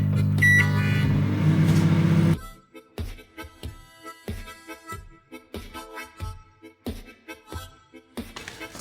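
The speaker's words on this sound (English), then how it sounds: "Okay, so into the microwave we go." A microwave oven hums loudly and evenly for about two seconds while heating a pasta pouch, then stops, followed by a string of sharp clicks and beeps.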